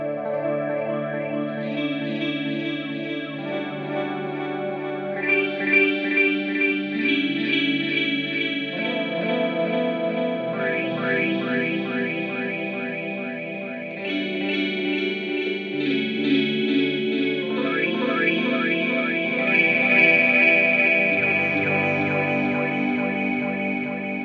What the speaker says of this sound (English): Right now I have delay on and the voice expression on.